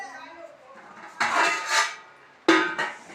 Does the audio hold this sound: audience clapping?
no